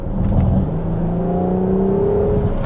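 A Ferrari 12 Cilindri, a V12 supercar, pulling onto the Yamuna Expressway, its engine giving a loud rising whir as it accelerates, heard from inside the car.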